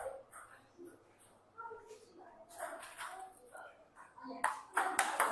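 A table tennis ball is struck with a racket during backhand push coaching, giving sharp, crisp pings that get louder and closer together near the end, with people talking throughout.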